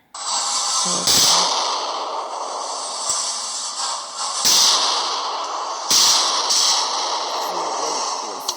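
A Ruger LC9 pistol fires at a gun range, several sharp, loud cracks spaced a second or more apart, each followed by a hissing echoey tail over steady background noise.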